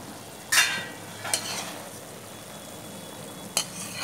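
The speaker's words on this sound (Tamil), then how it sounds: "கடுகு மட்டும்தான் தாளிக்க போகிறோம்." Mustard seeds temper in hot coconut oil for a buttermilk kuzhambu, a soft background sizzle broken by a few sharp crackling pops and a faint clink of a utensil, close by with no speech.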